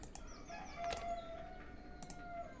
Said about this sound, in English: Okay, where is this rooster?